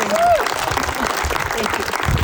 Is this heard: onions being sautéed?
no